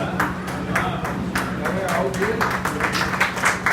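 Audience applause rings through a seminar hall at a Lions Club diabetes seminar in Azamgarh, steady clapping from many hands throughout, with a low hum and some voices underneath.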